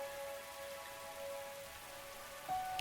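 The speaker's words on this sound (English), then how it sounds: "Rain is one of my favorite sounds, I won't lie." Rain falling in The Hundred Line video game, a soft, steady patter under faint sustained tones from the game's music, with a slight swell near the end.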